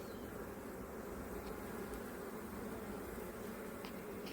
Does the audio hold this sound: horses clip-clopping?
no